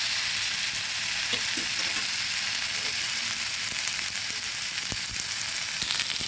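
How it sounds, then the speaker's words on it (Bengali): Sliced snake gourd frying in oil in a pan, a steady close sizzle with occasional stirring clinks, no talking. "চিচিঙ্গাগুলো ভালোভাবে ভাজা হয়ে গেছে"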